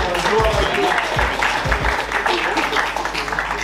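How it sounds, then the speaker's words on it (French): Audience applause inside a church, a steady mass of clapping that fills the room at moderate loudness, with a few voices and low thumps mixed in. "on peut l'applaudir"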